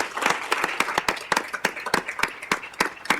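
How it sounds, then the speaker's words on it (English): Applause at a city council meeting, a small group clapping steadily in brisk, evenly spaced claps for a few seconds, moderately close. "So let's give a round of applause."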